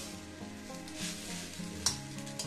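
Chow mein noodles being tossed and mixed in a pan over a low flame for veg chow mein, a steady soft sizzle with a faint hum and one sharp clink near the end, no voices.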